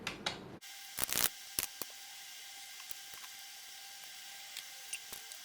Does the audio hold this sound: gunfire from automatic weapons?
no